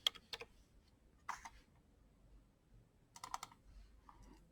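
Sparse keystrokes on a computer keyboard as a spreadsheet formula is entered: a few short clusters of crisp clicks separated by quiet gaps, close and fairly soft, with no speech.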